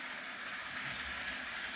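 A Bachmann Monopoly HO scale model train set, released in 1998 under license from Hasbro, runs along its track with a steady, close rolling rumble and faint clicking and no talk.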